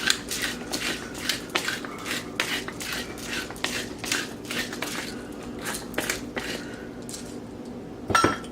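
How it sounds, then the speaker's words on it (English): Fresh pepper cracked over smashed potatoes and smoked chicken sides, a close run of crunching and gritty grinding bursts in an uneven rhythm, with a sharper crack near the end. "Fresh cracked pepper."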